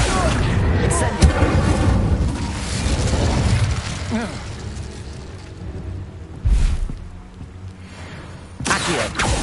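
The Incendio fire spell is cast in the game Hogwarts Legacy, a sudden whooshing burst of flame among other booming spell blasts, loud and close, with brief gaps between impacts.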